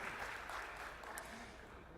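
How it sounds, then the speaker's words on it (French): An audience at an innovation and entrepreneurship conference applauds a secretary of state, a dense, continuous wash of clapping that fades slightly toward the end, heard faintly from a distance. "Je pense qu'on peut applaudir Monsieur le secrétaire d'État"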